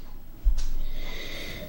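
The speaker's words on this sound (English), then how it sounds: "Let's give it a sniff first." A person takes a single audible sniff of a glass of Spanish white wine, a short breathy inhale close to the microphone with no talking.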